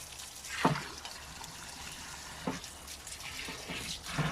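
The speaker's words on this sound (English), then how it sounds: "you just rinse it off in the clean water afterwards" Hands coated in biochar are rinsed in a basin of clean water. Soft, close trickling runs beneath a few brief splashes, all quiet with no voices.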